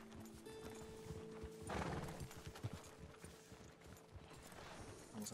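Horse hooves clip-clopping in Red Dead Redemption 2 as a rider brings the horse to a stop, steady hoofbeats with a whinny and tack jingles over a low game ambience, no talking.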